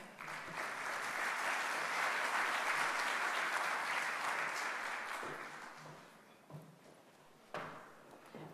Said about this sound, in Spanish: Recibimos con un fuerte aplauso a Esther Arteta